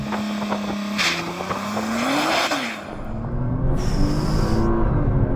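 A Nissan GT-R launches from a standstill at full throttle: a loud, close engine roar climbs steadily in pitch, dips briefly at a shift, then climbs again, with bursts of tire noise from the wheelspin; no talking.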